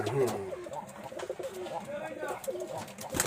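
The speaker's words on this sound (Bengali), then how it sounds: "আজকে কাকার বাসায় অনেকগুলো কবুতর দেখলাম" Domestic pigeons coo repeatedly in a loft at close range, with soft rolling calls and some rustling, while someone talks over them.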